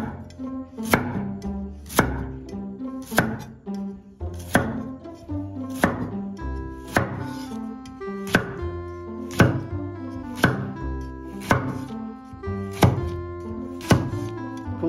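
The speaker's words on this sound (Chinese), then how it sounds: "切菜這樣嗎？" A knife chops stuffed tau pok (filled fried tofu puffs) on a board in a steady run of crisp, evenly spaced strokes, close and distinct, over soft background music.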